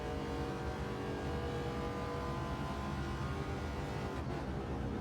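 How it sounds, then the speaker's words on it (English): A Wicked Fabrication GT 51 race car in Gran Turismo 7 at Grand Valley South revs hard in fourth gear, a loud steady engine drone climbing in pitch throughout, with a brief drop near the end. "Rev it out in fourth, up to 128."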